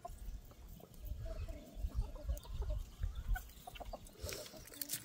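Backyard chickens, including a small Hamburg hen, cluck softly and intermittently at close range outdoors, with low rustling and scratching underneath and a few brighter calls toward the end.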